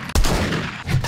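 A single loud gunshot goes off in the survival game 7 Days to Die, with a sharp blast and booming low tail, followed by a second fainter report near the end.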